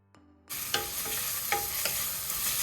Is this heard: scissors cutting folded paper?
no